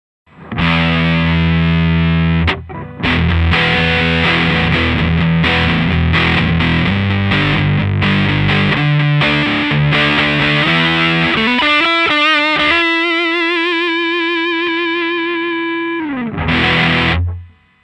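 An electric guitar through a Godcity Instruments Brutalist Jr. distortion pedal, distortion and loudness knobs at noon, plays loud, thick riffs and chords, ending with a sustained fuzzy note and a final short strum.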